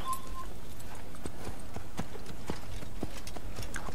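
Horse hooves clip-clop at a steady riding pace in the Assassin's Creed video game, a continuous near rhythm of hoof strikes against a faint ambient background, with no talk.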